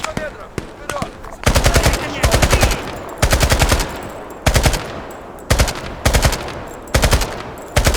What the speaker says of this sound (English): Shots left side,